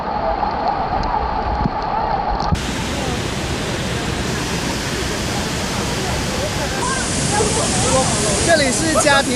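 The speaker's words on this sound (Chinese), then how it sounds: "有一条落差达50米的温泉流出来的瀑布" A 50-metre hot spring waterfall pours down a cliff face at Luoji Mountain in Sichuan, a loud continuous roar of rushing water that fills the scene from start to finish.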